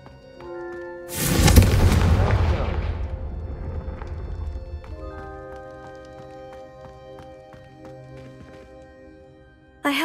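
Fire spell explosions in Hogwarts Legacy: a loud booming blast that swells and then slowly decays into rumbling debris and crackle, with faint game sounds trailing off.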